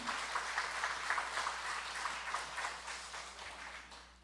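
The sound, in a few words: church congregation applause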